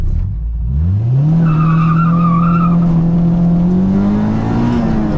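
A Honda Del Sol fitted with an Integra Type-R VTEC engine accelerating hard from a standstill in first gear, the engine note climbing loudly and steadily as it winds out, heard close up with no talking.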